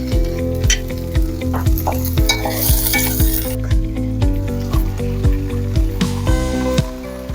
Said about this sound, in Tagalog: mainit na yung kawali. Unahin natin yung luya. Igisa lang natin.